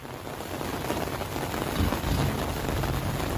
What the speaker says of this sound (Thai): ฝนตกแล้วครับพี่น้อง